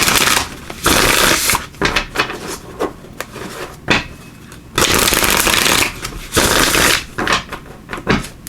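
Tarot of Dreams tarot cards being shuffled by hand, loud and close, in bursts of rapid riffling lasting about a second each, separated by short pauses and softer card handling.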